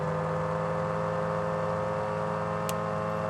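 A steady droning engine on a MiniMax 1500R ultralight aircraft in the flight simulator MSFS 2024, holding at about 2,000 RPM, even and constant with a brief click partway through.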